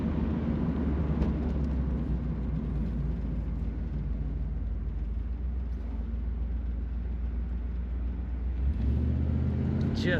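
A 1991 Chevrolet Camaro Z28 convertible with a V8 driving with the top down, a low steady engine rumble and road noise running continuously, rising slightly near the end.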